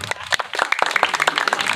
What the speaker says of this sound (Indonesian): tepuk tangan malih pisan